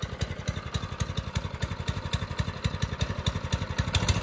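Ford F150 truck engine running rough and rhythmic before a burnout, a steady near chugging pulse with rapid regular firing beats and a slight rise in intensity toward the end, no talking.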